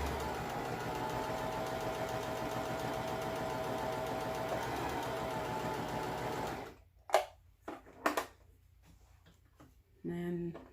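A Singer M3220 sewing machine runs a scallop stitch with a steady, fast, humming mechanical chatter for several seconds, then stops, followed by a few handling clicks and a voice speaking.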